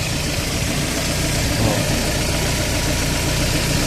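A car engine idling with a replacement idle solenoid fitted, a loud, steady, even rumble held close throughout without any talk.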